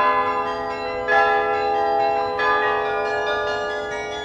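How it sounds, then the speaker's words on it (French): A 56-bell church carillon rings, bells from about 5 kg to 9 tonnes striking in succession with long, overlapping resonant tones. "on a un premier carillon qui faisait 29 cloches, qui est de 1920"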